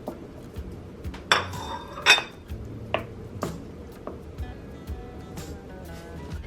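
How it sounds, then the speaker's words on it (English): Chunks of Velveeta cheese being stirred into a crockpot, a utensil scraping and clinking against the pot in irregular knocks, close and quiet. "we're going to stir this in until it is nice and melted"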